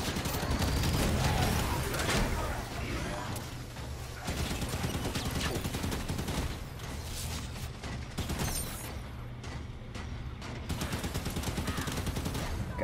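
Enemy gunfire in the video game Halo 5, continuous bursts of shots and impacts at moderate level, with a brief lull midway before the shooting resumes, with no talk over it.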